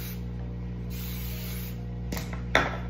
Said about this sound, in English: and then I'm gonna spray it down.